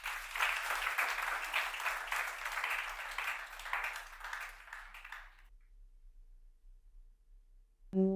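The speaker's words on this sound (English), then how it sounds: "can we clap for him again?" A conference audience claps steadily for a speaker, a dense roomful of applause that runs for about five seconds and then cuts off into silence.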